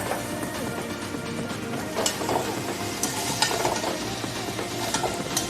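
Puti fish frying and being stirred in a pan for kochu loti, a steady close sizzle with scraping stirs and light utensil clinks running throughout.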